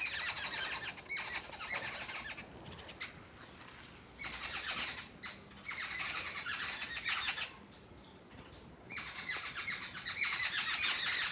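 A flock of birds perched in a neem tree in a garden calls continuously, a busy mix of shrill squawks, squeals and chirps coming in dense overlapping bursts, fairly close, with no talking.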